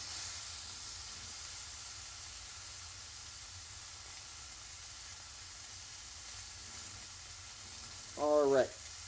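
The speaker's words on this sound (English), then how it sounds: "Now I am gonna remove the lid right now from those so that they can sort of steam off a little bit of that extra water" Vegetables sizzle and steam in a pan with the lid off, a constant loud hiss of frying that holds throughout, and a voice breaks in briefly near the end.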